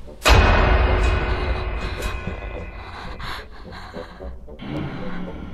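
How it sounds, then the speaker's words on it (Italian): In a horror video game, a monster breathes in heavy, ragged pants after a sudden loud impact, the rasping breaths continuing close and steady beneath a rumbling ambience. "ha un respiro super affannato, non lo so cosa sia"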